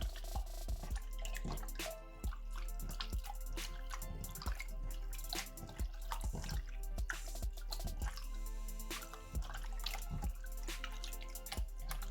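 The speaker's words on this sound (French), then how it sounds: "Ça m'a l'air très dur de mélanger l'eau avec le slime." Slime being stirred with too much added water, giving steady wet squishing, dripping and sloshing sounds close up throughout, with no talking.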